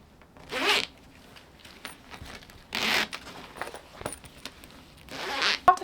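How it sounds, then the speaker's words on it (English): A zipper on a handmade fabric pencil case is pulled in three separate quick rasping strokes, close and fairly loud, with quiet handling noise between them. "I just feel like it would be a little bit better with the zipper facing up instead of having to go upside down"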